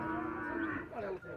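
A bull at a cattle fair in Cipó, Bahia, lets out one loud, sustained low moo that fills the whole moment, close and unbroken.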